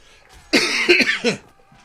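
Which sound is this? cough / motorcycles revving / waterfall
cough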